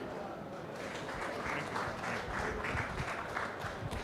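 Applause at the Bengaluru Open golf tournament presentation, fairly quiet, moderately dense clapping that builds slightly and continues evenly for four seconds in a reverberant space.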